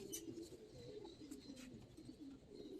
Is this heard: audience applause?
no